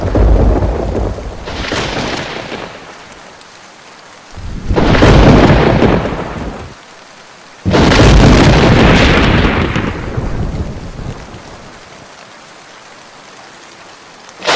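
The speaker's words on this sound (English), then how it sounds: "we are able to simulate immersive virtual thunderstorms" Simulated virtual thunderstorm with heavy rain, where several loud booming thunder rolls swell and fade between stretches of steady rainfall, with no speech.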